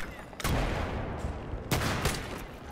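Video game Battlefield 3 multiplayer firefight: loud bursts of automatic gunfire crack out in two main volleys, close and harsh, with rattling echo between them.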